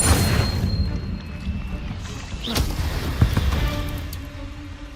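Incendio fire spell cast in Hogwarts Legacy, a loud low whooshing burst with rumbling crackle and a sharp crack, followed by fading magical tones and a brief chime, close up.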